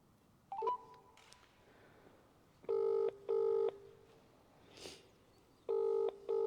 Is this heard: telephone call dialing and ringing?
yes